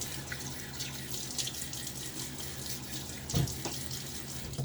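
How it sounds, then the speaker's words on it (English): Tap water runs steadily into a bathroom sink during a wet shave, with brief louder splashes as water is thrown onto the face; continuous and close, no talking. "I'm gonna throw a little water on my face."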